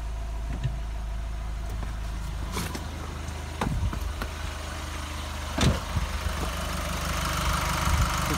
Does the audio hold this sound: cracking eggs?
no